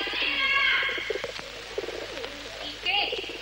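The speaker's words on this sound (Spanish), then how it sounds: "Pájaros van locos." Birds calling outdoors in a 1962 Spanish film, with repeated cooing and chirping calls, the strongest at the start and another burst near the end, over a steady background hum.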